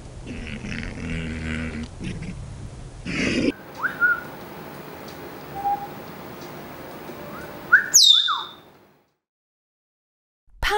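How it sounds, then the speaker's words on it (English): A parrot gives several short, bright whistled chirps and squawks at scattered moments, alone against a quiet background, with a louder shrill call near the end before silence. "Parrot."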